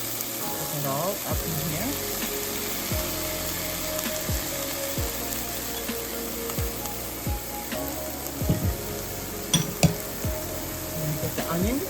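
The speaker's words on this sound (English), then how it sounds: "You're going to cook your mushrooms that you had. You're going to take your peppers." Mushrooms and peppers fry in a pan for an omelette with a steady, close sizzle, while repeated scraping strokes of stirring sound over it and a voice speaks briefly.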